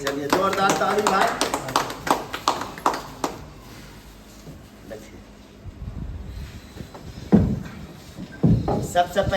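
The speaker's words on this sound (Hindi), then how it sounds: "चलिए जोरदार ताली भाई।" An audience at a Jan Suraaj political gathering in Munger claps loudly in a dense burst of applause that thins out, mixed with voices and crowd talk, then rises again in scattered clapping near the end.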